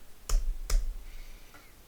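Two sharp keystrokes on a computer keyboard while entering a number, followed by a fainter third click, close and isolated in a quiet room.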